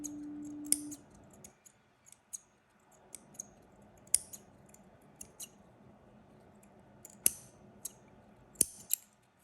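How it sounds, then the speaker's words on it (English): Small flush scissors trimming fabric overhang on a bolster cushion, sharp quiet snips and clicks scattered irregularly, close up in an otherwise quiet room. "I might just trim like these other little flush scissors to trim a little bit more"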